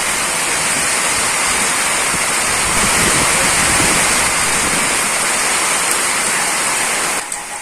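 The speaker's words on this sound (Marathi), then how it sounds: "धुवादार आणि कंटिन्यू पाऊस बरसायला लागला" A loud, unbroken wash of heavy monsoon rain in the Konkan region of India roars continuously, dense and close, easing slightly only at the very end.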